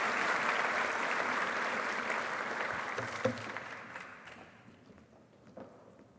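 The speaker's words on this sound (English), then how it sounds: "Can we give one more round of applause for these excellent preceptors?" Audience applause at a pharmacy white coat ceremony, a steady sustained clapping from a large crowd that gradually thins and fades toward the end, with a few isolated claps lingering.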